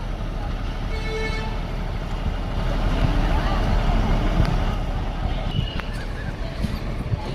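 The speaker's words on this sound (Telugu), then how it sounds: "Guntur bus stand. ఫుల్ అడవుడిగా ఉంది, ప్యాకే బస్ స్టాండ్ మొత్తం." A busy Sunday crowd at Guntur bus stand in Andhra Pradesh, a dense continuous wash of bus engines, chatter and bustle with short horn toots and clatters scattered through, steady and fairly loud.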